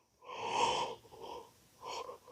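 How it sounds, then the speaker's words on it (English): A person yawns in two drawn-out breathy, wheezy bursts, the first long and loud, the second shorter after a pause. "humans yawning"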